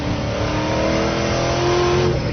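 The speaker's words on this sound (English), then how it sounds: "I just pick up the throttle a little bit and it steps right out. Tons of horsepower, sounds fantastic" A Ronaele 700R Mustang street rod revs loud and close under light throttle, a steady, dense, rumbling engine roar with no break and no talk.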